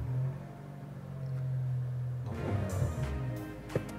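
A Fiat Panda 2 engine idles with a low, steady drone, then the car pulls away on a road test as the engine note rises and mechanical clunks and rustling sounds follow.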